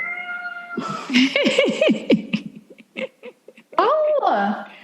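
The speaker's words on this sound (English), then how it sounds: "But Muse, my cat, ran over and was like, meow!" A pet cat meows repeatedly indoors, with several distinct loud, close meows, some rising and falling, mixed with a person's voice talking and shushing in between.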